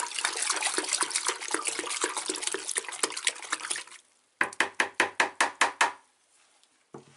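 A thinned plaster sealer mix is stirred in a container, a busy run of wet sloshing and scraping followed by a series of about eight rhythmic, evenly spaced strokes, then near silence.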